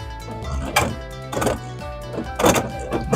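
A Beyblade X DrigerSlash 4-80P top spins and dashes around a plastic stadium, knocking against the walls in repeated loud clattering thunks over a continuous rattling whir.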